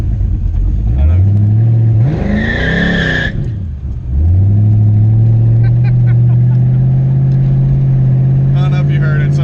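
An LS-swapped Fox Body Mustang engine with Microsquirt tuning, loud and close, climbing through wide-open-throttle revs in two long pulls with a brief squeal and a dip between them.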